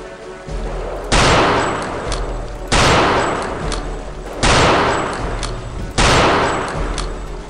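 Four loud, close sniper rifle shots in a video game, spaced about a second and a half apart, each hitting hard and trailing into a long rumbling echo.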